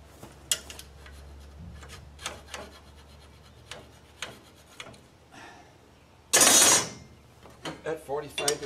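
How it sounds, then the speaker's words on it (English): Steel angle for a boat lift walkway bracket is handled in a workshop with sharp metallic clinks and scrapes as a line is scribed, including one loud rasping scrape, with no talk. "so now I need to measure and scribe"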